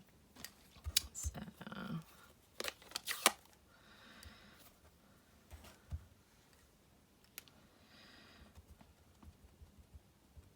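Scissors snip through card stock while a handmade Valentine card is trimmed to size, close and quiet, with several short crisp bursts of cutting separated by pauses and light handling taps.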